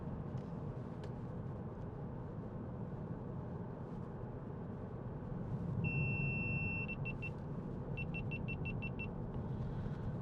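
A 2019 Volkswagen Passat 2.0 TDI GT with a DSG gearbox cruising on the road gives a steady low rumble of engine and tyre noise throughout, with a brief swell in the middle and a few short electronic beeps from the cabin.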